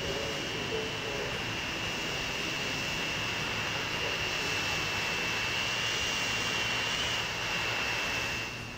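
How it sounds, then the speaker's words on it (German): A jet airliner in the Transport Fever 2 video game flies past, a steady, moderately loud engine drone and whine holding for about nine seconds with no talking. "Jetzt sind wir im Jet-Zeitalter."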